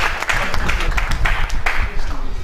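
Close, loud audience clapping at an innovation competition event, a brisk burst of hand claps sustained across the short span.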